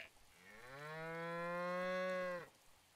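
A single long moo from a cow in Breath of the Wild, swelling over about two seconds and cutting off cleanly, fairly quiet with no talk.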